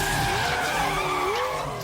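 A Lamborghini Countach in NFS Unbound skids to a stop, a loud, close tire squeal with a wavering pitch over a low engine rumble, fading slightly at the end.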